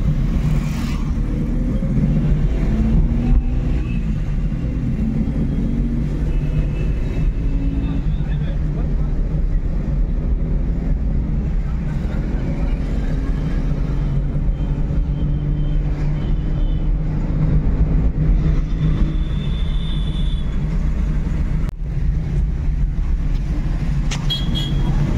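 A Renault Kwid with an automatic transmission out on a trial run, its engine and road noise forming a steady low cabin hum throughout, with a faint horn toot and a person talking over it.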